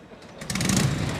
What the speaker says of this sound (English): Who said those Harleys don't start on one kick?